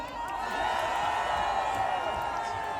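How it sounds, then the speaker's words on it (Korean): A large outdoor crowd at a presidential campaign rally for candidate Kim Moon-soo in Anseong cheers and roars in a continuous, dense wash of voices that stays loud and steady throughout. "기호임원 김문수 후보에게 존경하는 시민 여러분의 뜨거운 성원과 함성을 부탁드리겠습니다."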